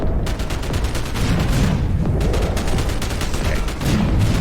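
Heavy gunfire in the 7th Sector video game: loud, dense, continuous volleys of rapid shots that run the whole time without a break.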